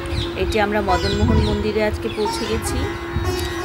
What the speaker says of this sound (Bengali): পাখির ডাক নিশ্চয়ই শুনতে পাচ্ছেন।